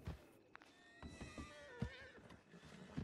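Horse neighing in a Western-setting video game, a few short whinnies with harmonic bursts and some hoof thumps, fairly faint amid low rumbling background.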